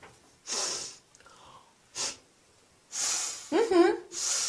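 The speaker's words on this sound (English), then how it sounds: "How do I show disapproval? Easy. You sniff." Several short nasal sniffs and breathy snorts, close and distinct, separated by brief pauses, with a vocal sound in between.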